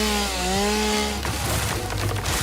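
A chainsaw in the modded Satisfactory factory-building game rises from a steady whine into a rough grinding buzz as it cuts through trees. The sound is loud and continuous with no talk over it.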